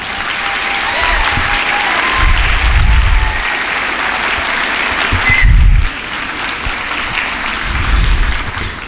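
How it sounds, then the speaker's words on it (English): A large school audience applauds student performers with sustained, dense clapping from a crowd, loud and continuous with swelling low rumbles throughout. "I think our students deserve a huge round of applause for this."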